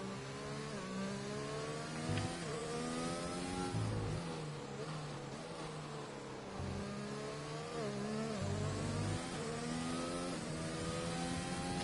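A Formula 1 race car engine screams through a hot lap in a racing video game, with continuous high-revving whine rising and falling through gear shifts and corners, loud and steady for the whole stretch with no talk.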